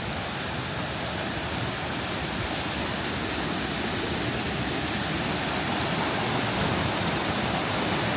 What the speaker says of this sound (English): There's a super pretty waterfall.